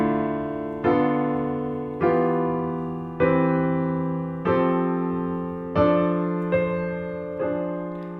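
Piano recording of a Schumann passage with a dissonant rising 5–6 sequence ending in a cadence: seven sustained chords struck in a slow, even pulse, each decaying before the next, with no voices.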